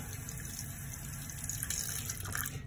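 Water runs steadily from a tap as a sticky Lincoln cent is rinsed clean of acetone residue, a continuous close splashing hiss with slight shifts as the coin moves under the stream.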